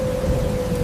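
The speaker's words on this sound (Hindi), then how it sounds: "रात के करीब 11 बजे बाहर तेज आंधी और बिजली कौंध रही थी" A heavy night storm sounds outside with a dense, steady rumble of rain and wind and a constant low roar, no voices, close and loud throughout.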